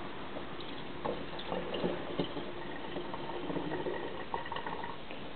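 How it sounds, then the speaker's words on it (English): Hot water pours out of a bowl in a steady, bubbling trickle with small splashes and drips, close and moderately loud, without talking. "I'm going to pour the water out"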